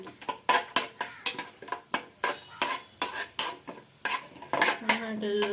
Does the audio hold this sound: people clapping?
no